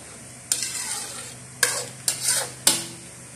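A liter of boiling water pours into a pot of chicken feet and ginger for tamarind soup, four sharp splashing, hissing bursts each fading over a fraction of a second, close and clear with no talk.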